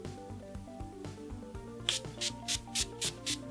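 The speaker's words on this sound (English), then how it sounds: "Then some setting spray." Six quick hissing spritzes of makeup setting spray from a pump spray bottle, evenly spaced, close up over faint background music.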